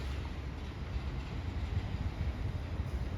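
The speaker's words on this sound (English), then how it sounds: "Right, here comes the train." A train rumbles into a station at Shrewsbury with a low, steady roar and faint rail noise, continuous and moderately loud with no talking.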